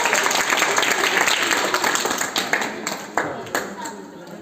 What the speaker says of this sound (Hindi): ताली बजाओ बेटा